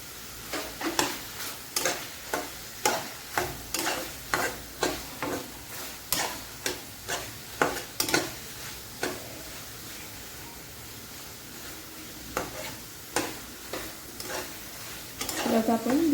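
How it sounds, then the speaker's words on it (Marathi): Papaya sabzi stirred in a pan with chilli powder and crushed peanuts, a steady run of sharp scraping strokes over a soft sizzle, pausing briefly before resuming near the end. "आता आपण हलवून घेऊया."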